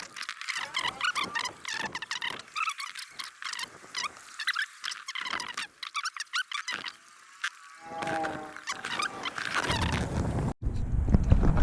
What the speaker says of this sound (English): Sounds like it's splashing because there's water in the thing.